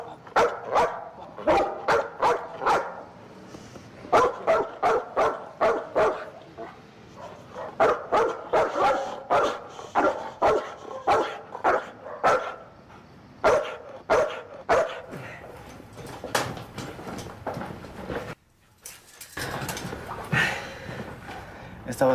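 Restless dogs bark in repeated bursts of sharp barks and yips through most of the stretch, with short gaps between volleys, close and fairly loud, while people talk over them now and then.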